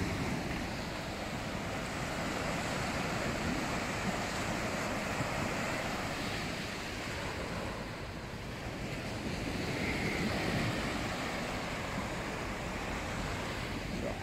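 Ocean waves wash steadily onto a beach at Punta Cana in the Dominican Republic, a continuous broad roar of surf with some wind buffeting the microphone and no voices heard.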